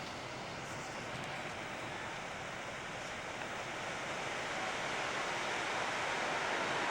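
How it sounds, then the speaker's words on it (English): Cold creek water rushing through a narrow chute past a stuck log in the Jemez mountains of New Mexico, a loud, constant broadband roar that swells slightly toward the end, with no talking. "A lot of water coming through that chute there and a log stuck in there."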